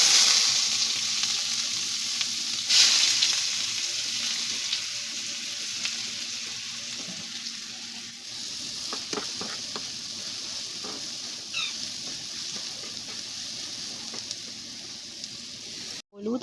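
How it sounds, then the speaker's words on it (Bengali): A crushed ingredient fries in hot oil with a steady close hiss and crackle, with occasional stirring and small clinks throughout. "তো আমার তেলটা গরম হয়ে গেছে, আর এটা ক্রাশ করা হয়ে গেছে। সো আমি এটা দেবো তেলে"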